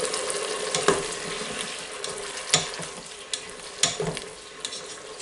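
Paprika and chorizo sauté in a pot, sizzling steadily close by, broken by a handful of sharp clicks and spoon knocks.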